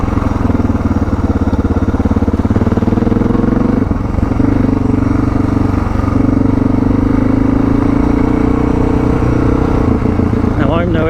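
Suzuki DR650 with new suspension rumbling steadily along a mountain forest dirt road, its single-cylinder engine loud and close with wind buffeting throughout and a slight rev change midway.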